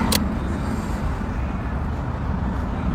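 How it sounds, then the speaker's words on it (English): Car burnouts at a street racing event, heard as a steady, loud roar of engines and tire noise from a distance, continuous throughout without clear breaks. "You can hear burnouts."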